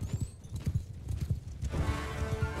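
Horse hooves in the battle game Mount and Blade Bannerlord beat in a quick galloping rhythm, close and fairly loud, with a rushing wash of battle noise swelling over the second half.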